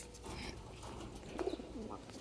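Young home-bred Arshad-line pigeons scuffle nearby, giving soft, faint coos with a brief, slightly louder flurry midway, over a low steady background.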